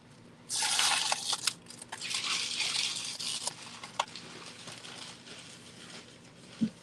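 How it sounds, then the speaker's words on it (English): Packing tape is pulled and pressed onto bead orders being packed for shipping, a crackling, tearing rustle close by that runs for several seconds and then fades into lighter handling noises. "You might hear some tape sounds."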